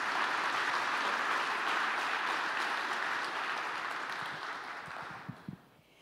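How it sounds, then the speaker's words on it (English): Warm audience applause for a speaker at a talk in Columbus fills the room, holding steady before fading out, with a few louder claps near the end. "Give a warm round of applause for,"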